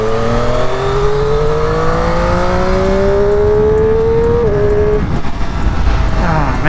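A Triumph Moto 2 Daytona 765 motorcycle engine revs up at a local bike night, its pitch climbing steadily in a loud, sustained whine that drops off near the end, with a brief burst of throttle following.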